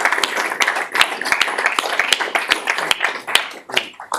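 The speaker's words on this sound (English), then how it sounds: "Let's give her a round of applause." Small audience at an annual general meeting giving a round of applause, a brisk patter of individual claps, close and fairly loud, with no talking over it.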